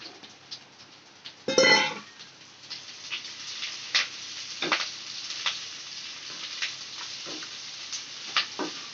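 Ponnaganti greens hitting a pan of fried onions: a loud splash of sizzle as they go in, then softer crackling and irregular pops and stirring taps over the rest.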